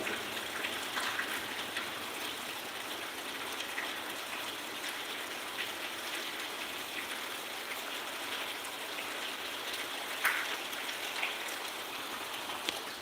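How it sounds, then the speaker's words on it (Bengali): Heavy rain falls steadily over a building site in Jashore, a dense even patter and hiss of drops on surfaces, fairly soft overall with a few sharper splashes. "প্রচুর বৃষ্টি হচ্ছে ভাই এদিক প্রচুর বৃষ্টি এই যে দেখেন"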